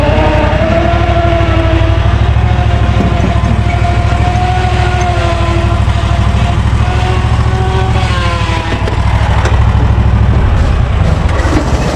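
A Husqvarna zero-turn mower engine runs loud and steady close by, with a continuous low drone and wavering harmonics that dip briefly near the end before picking back up; no one speaks.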